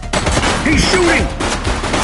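Rapid gunfire erupts from a suspect in the police game The Precinct, a dense loud fusillade filling the whole moment, with game voices briefly heard over the shooting.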